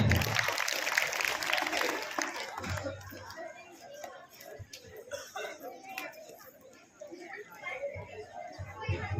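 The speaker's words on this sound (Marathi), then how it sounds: "जोरदार टाळ्या" Applause from students at a school morning assembly rises loud at the start, then fades into scattered claps and children's chatter, swelling briefly again near the end.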